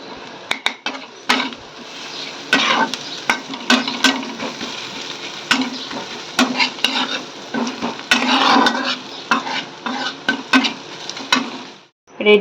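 Garlic and ginger fry in a pan while a spoon stirs them, with a steady sizzle broken by frequent sharp scrapes and clinks against the metal. The sizzle cuts off abruptly near the end.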